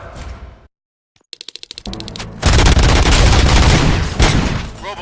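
Gunfire in the video game RoboCop: Rogue City: after a sudden silence, a rapid burst of sharp shots rings out, followed by a loud, sustained roar of heavy firing and booms.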